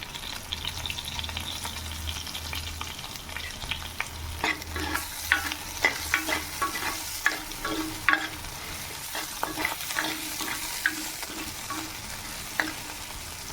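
Gooseberry sambar ingredients with onion and rock salt are sautéed in a pan, giving steady close frying sizzle under repeated scraping and stirring clicks of a utensil, with no talking.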